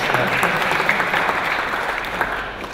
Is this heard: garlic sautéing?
no